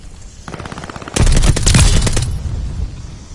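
Rapid automatic MP40 fire in the World War II shooter Call of Duty: Vanguard, a loud, dense burst of close shots lasting over a second after a quieter stretch of background gunfire, then fading.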